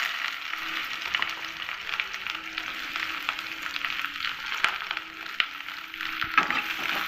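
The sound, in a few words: onions frying in hot oil in a wok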